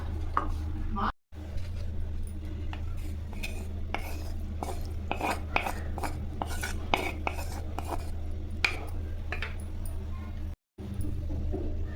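Coriander leaves being chopped for chutney, a fast, steady run of knife taps on a cutting board, close and clear over a low background hum, with two very brief drops to silence.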